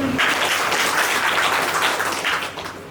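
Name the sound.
audience clapping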